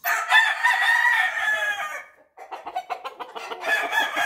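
A white rooster crows loudly nearby, a long strained call that breaks off, then resumes in choppy clucking bursts before a final crow.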